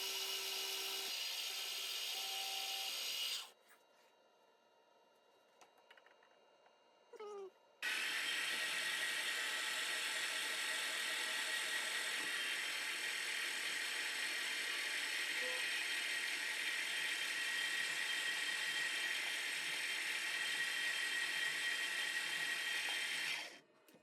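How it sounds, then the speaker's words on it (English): A metal lathe facing and turning brass hex bar down to a smaller diameter: a steady high-pitched whine of cutting runs in two long stretches separated by a quieter pause with light mechanical clicks. "I started by facing off a piece of brass hex bar and turning it down to 5/16" diameter."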